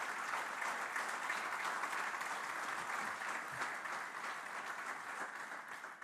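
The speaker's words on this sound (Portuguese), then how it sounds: "pedia-vos apenas uma salva de palmas para estes 5 jovens" Audience applause at a Portuguese conference panel honoring five young people, a steady wash of many hands clapping from a large crowd, even and sustained throughout, fairly distant and soft with no voices.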